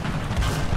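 A tank cannon fires in the War Thunder ground forces game: a single heavy, booming blast with a deep rumbling low end that fills the short moment, loud and close, with no talking.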